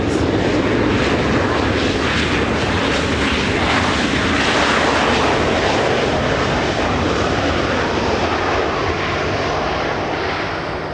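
Continuous loud airplane engine roar at Los Angeles International Airport, a broad steady rush of jet or propeller noise close by that holds for the whole stretch and eases slightly toward the end.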